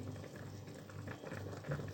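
A fish and mushroom sauce simmers in a pot, giving a steady low bubbling and soft crackle that runs close and quiet without a break for two seconds.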